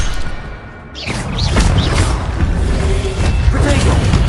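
Incendio fire spell cast in Hogwarts Legacy, a whooshing burst followed by a sustained roaring rumble with crackling impacts, loud and close, while a voice speaks.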